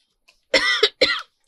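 Two harsh, close coughs in quick succession from one person, each a loud raspy burst with a short throaty catch, in a quiet room.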